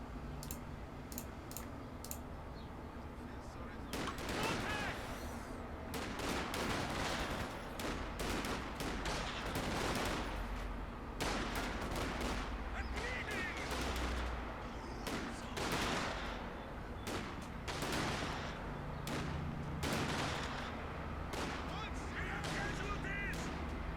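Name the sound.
G43 rifle gunfire, Company of Heroes 2 video game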